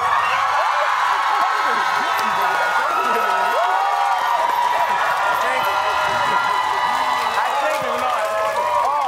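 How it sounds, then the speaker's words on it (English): Fans at a Mardi Gras car decorating contest cheer and applaud loudly for a contestant, a sustained crowd roar filled with shouts, whoops and clapping, with voices calling out throughout. "And by applause, let me hear Matt's fans."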